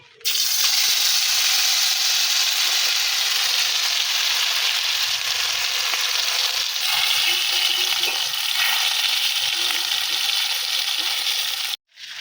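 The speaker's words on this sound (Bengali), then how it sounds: "ঘিটা গরম হয়ে গেছে। এর আমি লেগ পিসটা দিয়ে দেবো।" Chicken leg piece frying in hot ghee in a small kadai, a steady loud broadband sizzle running unbroken for the whole stretch with no talk, cutting off briefly near the end.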